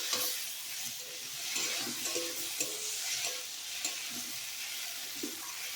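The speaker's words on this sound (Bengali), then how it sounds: "বারে বারে ঢাকা খুলে একটু নেড়ে করে আবার একটু, যেহেতু লাউ একটু সময় লাগে কষাই করতে" Chunks of bottle gourd and potato are stirred in an uncovered pan while being cooked down for a katla fish curry. A steady sizzle runs under repeated soft scraping strokes, close and fairly quiet, with no speech.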